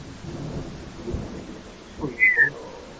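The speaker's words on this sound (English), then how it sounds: "Raining outside." Rain falls outside during a thunderstorm, with a steady soft hiss and low rumbles of thunder. It sounds muffled and distant from indoors, with a brief brighter sound near the end.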